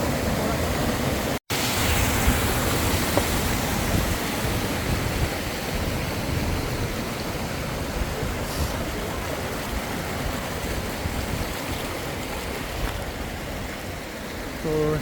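Malsa Waterfall and its river pour in a dense, steady roar of rushing water that fills the whole stretch evenly, close and loud, with no voices heard.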